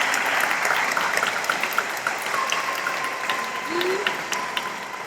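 A church congregation at Sunday Mass applauds an engaged couple with steady clapping throughout, a faint tone ringing in the background and a few murmured voices underneath.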